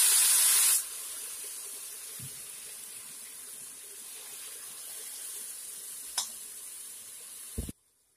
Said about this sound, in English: Now we are adding little bit water.